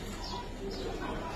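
Purple-legged Giribaz pigeons offered for sale give a faint, brief bout of soft cooing at close range.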